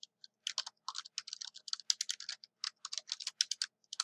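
Computer keyboard typing as spreadsheet row titles are entered in Excel: rapid, irregular key clicks in quick bursts with short pauses, close and clear, with no talking.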